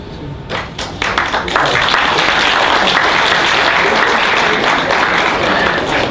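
Sustained applause from the audience at a legal seminar on union financing, building within the first second or two into a dense, loud, steady wash of clapping that holds to the end.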